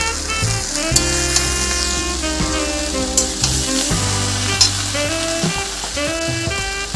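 Bitter gourd and ginger paste frying in a pan for shukto, with a steady loud sizzle under a musical background and occasional sharp scraping stirs from a spatula, close by.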